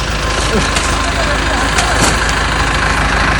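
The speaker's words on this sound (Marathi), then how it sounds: "हे बघा कसे ट्रॅक्टर विक्टर चालू राहिले" A tractor engine idles and rumbles steadily nearby on a sugarcane farm, a constant loud drone with no breaks.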